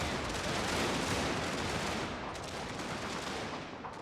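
Sustained massed unit gunfire in a Prussia strategy game set in the Far East, a dense continuous crackle of musketry volleys that stays loud throughout and eases slightly near the end.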